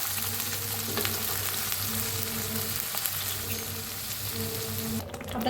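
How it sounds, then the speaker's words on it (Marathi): Masala paste fries in hot oil in a kadai for egg curry. A loud, even sizzle continues close by, under a faint steady hum, and cuts off near the end. "आता हे मसाला ह्याच्यात मसाला भाजून घेऊया"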